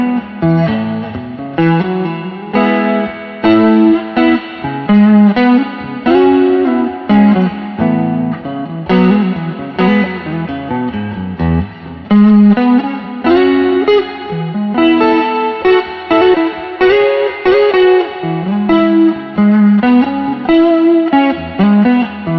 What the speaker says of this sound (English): So we'll do a bit of chorus. The delay will blend in nicely with the reverb and go straight to the clean channel.